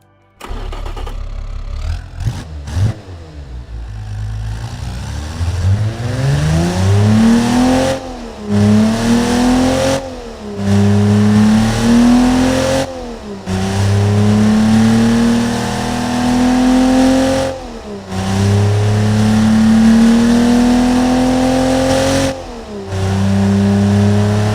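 A 6-cylinder car engine in the game Automation starts up and revs repeatedly, loud and close, each climb in pitch cut by brief pauses before the next rev, with no talk over it.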